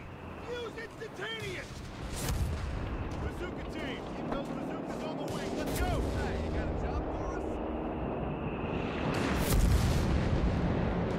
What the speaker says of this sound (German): Ich muss jetzt den vollen Beschuss hier wieder drauflegen.